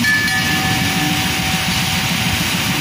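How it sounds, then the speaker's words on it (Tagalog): A locomotive at the Miraflores Locks of the Panama Canal gives off a steady rumbling drone with a faint high whine, continuous and fairly loud, with no talk. "Hihilahin na po siya ng locomotive train."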